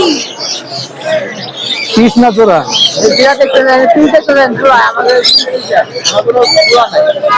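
Caged birds at the Mirpur 1 bird market in Dhaka keep up dense, overlapping chirps and tweets with some cooing, loud and close, under bargaining voices and crowd chatter.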